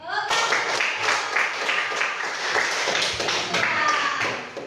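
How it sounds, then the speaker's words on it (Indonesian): A classroom group applauds a student presentation group, a brief burst of quick, steady clapping from a small audience that starts abruptly and carries on evenly, fairly close, with some voices mixed in. "Tepuk tangan untuk kelompok Agus Subhan."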